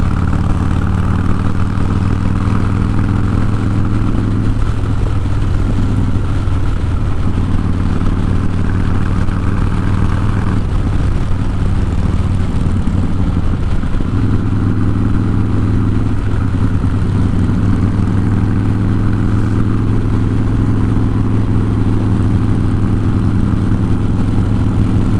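A 2007 Harley-Davidson Softail Custom motorcycle underway, its engine droning steadily and loudly for the whole stretch with wind rush over it, rising and easing slightly as it rides, with no talking.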